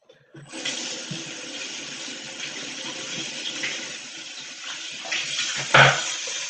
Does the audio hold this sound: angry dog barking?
no